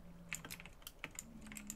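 Quiet, scattered keystrokes tap on a computer keyboard, a few sharp clicks spaced unevenly over a soft steady hum, with no speech.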